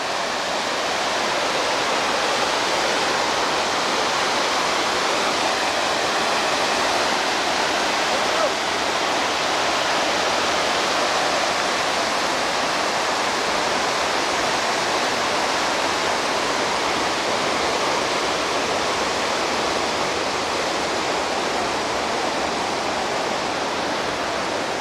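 Water rushes out at Rajadera dam in Magarlod, a loud, steady, broadband roar that stays constant and close for the whole stretch, with no voices heard.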